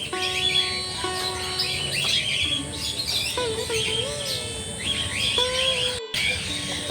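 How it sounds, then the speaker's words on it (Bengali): Several caged birds, including a parrot, chirp and whistle continuously, with overlapping calls and tonal whistles close by in a quiet rural setting. "দেখেন পাখির কিচিরমিচির শব্দ,"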